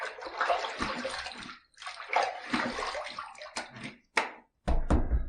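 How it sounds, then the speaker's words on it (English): Water splashes and sloshes in bursts as a man rinses his face after a wet shave, with a running tap and a few sharp splashes close by, ending in a loud burst of water. "Third pass done, let's rinse."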